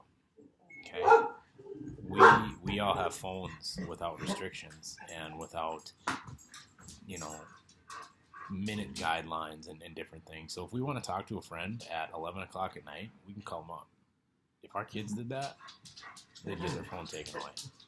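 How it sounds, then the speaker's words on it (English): A pet dog named Sigmund barks and whimpers in short bursts at the mailman, a little distant and partly masked under a person's steady talking throughout. "You can hear my dog barking."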